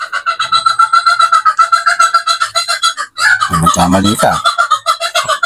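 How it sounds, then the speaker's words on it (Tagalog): Close, loud clucking and cackling from chickens throughout, with a brief spoken phrase partway through. "Ito naman mga manok ko."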